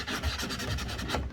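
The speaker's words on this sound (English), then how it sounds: "giving it a light sand with a 220 grit sanding block" A 220 grit sanding block rubs lightly over painted wooden furniture corners, producing steady close raspy strokes in a repeating back-and-forth rhythm with no talk.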